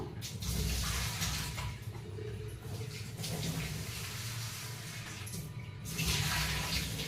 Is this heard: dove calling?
no